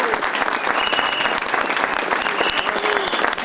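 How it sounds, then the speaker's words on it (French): An audience applauding the podium winners at a French rally, the Rallye Plaines et Vallées: continuous crowd clapping with sharp individual claps up close, plus some murmuring voices in the background. "Vous pouvez les applaudir!"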